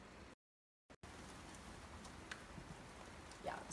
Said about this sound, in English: You can probably hear it. It's raining again.